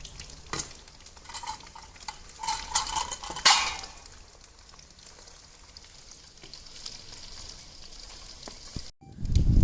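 Bitter gourd (karela) slices fry in a pan with a steady sizzle, while a spoon or spatula stirs and scrapes against the metal. A louder clatter comes near the middle, and a brief loud bump lands at the end.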